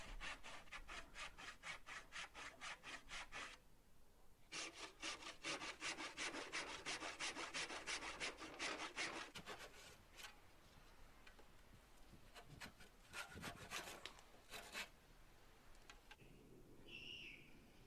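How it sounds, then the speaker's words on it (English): A handsaw cuts through wood to form a lap joint, making fast rhythmic back-and-forth rasping strokes that pause briefly, resume, then give way to scattered taps and light knocks. "remove the material on the opposite side. Again, just using a handsaw"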